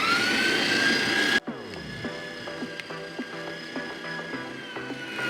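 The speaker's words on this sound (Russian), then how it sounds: "Не так уж важно это для бытовой мясорубки, за сколько она там мясо в фарш превратит" A Tuvio electric meat grinder mincing meat: a loud, steady motor whir runs for about a second and a half, then cuts out abruptly, leaving quieter rhythmic mechanical clicks and ticks.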